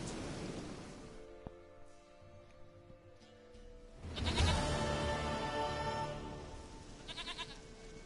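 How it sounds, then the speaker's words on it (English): A goat in The Witcher 3 video game lets out bleats over soft ambient game sound and distant surf. The calls are fairly near and clear, and a louder bleating passage comes midway. "Goat of mine, dearest, sweetest goat."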